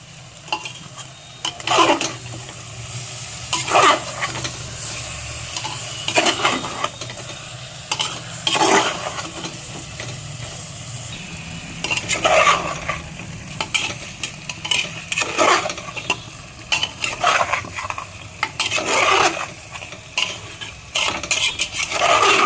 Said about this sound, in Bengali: এবার একটু টমেটো বাটাটা দিয়ে কষবো